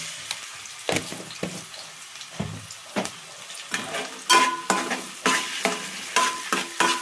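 Ginger and garlic fry in a hot pan with a soft, steady sizzle, broken by repeated sharp scrapes and clacks of a spoon stirring, growing busier toward the end.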